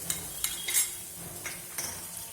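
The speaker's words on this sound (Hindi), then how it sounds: "अब प्याज गोल्डन ब्राउन हो गई है तो टमाटर डाल दीजिए।" Tomatoes go into a pan of golden brown fried onions for South Indian tomato chutney, with a few sharp utensil clinks and stirring scrapes over a soft, low background.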